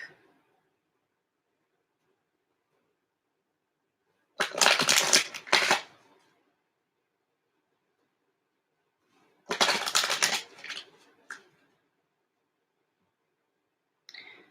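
Tarot cards are riffled and shuffled in two crisp bursts of a second or two each, separated by quiet gaps, close and fairly soft with faint ticks at the edges.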